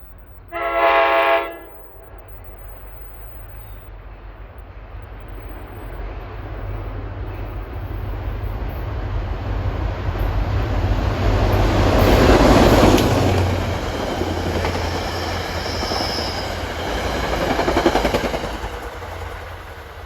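A GP40FH2 diesel locomotive in Metro North colors hauls a passenger train to Hackettstown past Mountain Station, opening with a short loud horn blast, then a long rising rumble and rail clatter that swells and fades as it passes.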